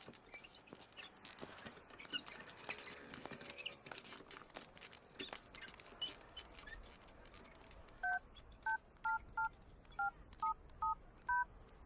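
Telephone keypad tones from a phone being dialed in a dubbed Hindi romantic film: after a stretch of busy background noise, about nine short, evenly spaced dual-tone beeps sound clearly near the end.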